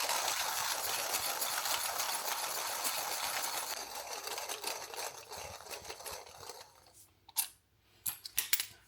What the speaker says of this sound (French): on dépasse la minute pour moudre le café avec ce moulin